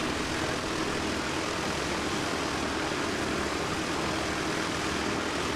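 A Dash 8 Q300 turboprop airliner arriving at Christchurch Airport, New Zealand, on its inbound run from Hokitika, gives a steady, broad engine and propeller roar that holds at an even loudness throughout, with no talking.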